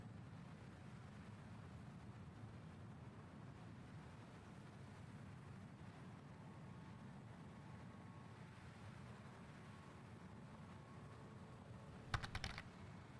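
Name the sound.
typing on a computer keyboard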